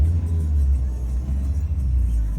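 Road traffic in Cyprus forms a loud, steady low rumble of car engines that swells slightly and never lets up.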